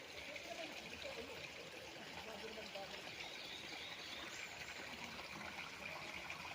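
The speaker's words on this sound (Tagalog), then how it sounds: "sapa pa lang po ito" A creek on a farm lot in Liliw, Laguna flows steadily, a soft, continuous trickle and wash of clear water, faint and even with no break.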